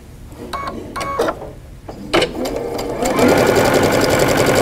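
A sewing machine stitches binding onto a quilt, first in short rhythmic bursts of needle clatter separated by pauses, then settling into a continuous fast whirring run, close and loud.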